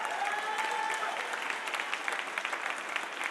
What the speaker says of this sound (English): A round of applause for Let's Go Washington, Karen and County.